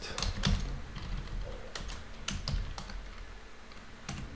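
Rapid, irregular clatter of keys on a computer keyboard as HTML code is typed, close and steady with bursts of sharper strokes, no voices.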